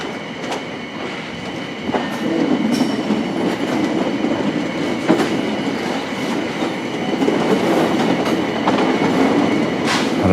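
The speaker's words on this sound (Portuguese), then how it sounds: "só passa trem de carga" A freight train rolls through Paranapiacaba, its steady loud rumble and rhythmic clickety-clack of wheels on rail joints continuing throughout, with faint metallic squeals on top.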